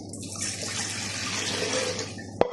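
Water poured in a steady, fairly quiet stream into a dough mixture, with a soft splashing hiss throughout and a small knock at the end.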